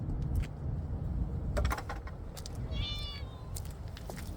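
A neighbor's cat meows once, a short, fairly clear cry standing out against steady low background noise, with faint scattered clicks around it.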